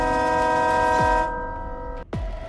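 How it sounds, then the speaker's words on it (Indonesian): A loud, blaring truck horn with a rich harmonic tone sounds close by in a tunnel, cuts off briefly, then blasts again. "klakson yang terdengar sangat kuat"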